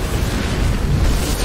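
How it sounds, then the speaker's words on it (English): Explosion in the Resident Evil 6 video game, a sustained loud rumbling roar with heavy low-end boom that fills the whole moment without speech. "Wow, outrunning explosion."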